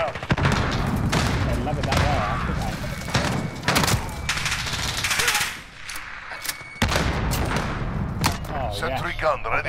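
Shotgun blasts and surrounding gunfire in Call of Duty: Modern Warfare, with loud, repeated booming shots close by, a brief lull partway through, and someone talking over the firing.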